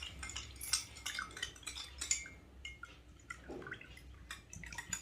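A homemade summer drink mixture stirred in a vessel, with soft clinks of a spoon against the container and light liquid sloshing, faint and close, no talking.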